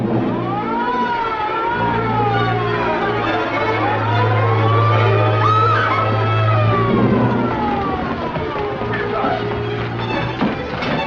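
A wailing emergency siren, likely from an ambulance or police car, sweeps up and down repeatedly over a steady low engine drone, fairly close and continuous throughout.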